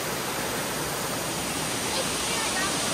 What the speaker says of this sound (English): we're getting close to the waterfall.